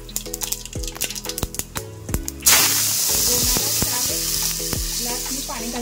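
Whole spices, cloves, bay leaf and black pepper, drop into hot oil in a pot. Scattered clinks come first, then a sudden loud, sustained sizzle takes over.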